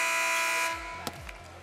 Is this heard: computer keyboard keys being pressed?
no